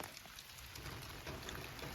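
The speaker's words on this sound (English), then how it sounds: "it's a nasty rainy afternoon" Steady rain drums on the plastic of a poly tunnel greenhouse on a wet January afternoon, a dense, even patter with scattered louder drops, fairly close and with no voices.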